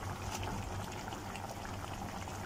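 Sinigang soup with kangkong boiling in a pot, a steady bubbling simmer that stays even and fairly quiet throughout, with no talking.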